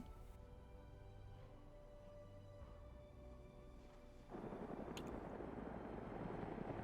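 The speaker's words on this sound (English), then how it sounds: "the helicopters are just trying to find a good spot to land on" Helicopters fly in the military video game Arma 3, a steady low rotor and engine drone that swells louder partway through, with no talk over it.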